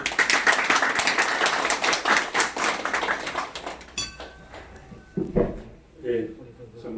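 Guests clap at a 60th birthday banquet, a dense burst of applause for several seconds that stops abruptly, followed by scattered knocks, handling noises and murmured voices in the room.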